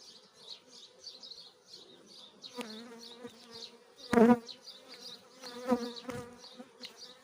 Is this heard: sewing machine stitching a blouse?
no